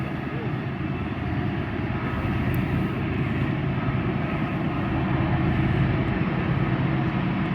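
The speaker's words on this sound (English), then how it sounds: "you can see where the train is coming from down there in the lower right side" A long freight train at the Tehachapi Loop, heard from a distance as a steady, low, droning rumble that slowly grows a little louder.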